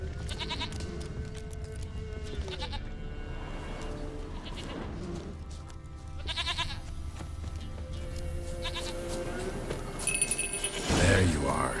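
Several goat bleats come in bursts from a goat in The Witcher 3 video game, mixed with game ambience and a voice talking between the calls.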